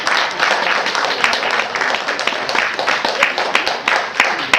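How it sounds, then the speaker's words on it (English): Audience applause at a regional writers' conference, dense continuous clapping from a crowd, fairly loud and close, with a few voices under it. "Shall we give them a big hand of applause?"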